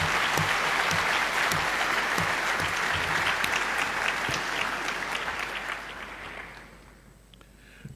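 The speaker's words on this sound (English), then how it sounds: "Okay, so we all applaud them all." Dense audience applause fills the hall at the inaugural session of a scientific conference in Rome, loud and steady before thinning and fading out near the end, with no talking over it.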